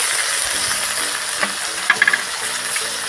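Chopped tomato and coriander leaves sizzle in a pan while a cooking masala is being made, a steady broad frying hiss with a few brief clinks of a utensil near the middle.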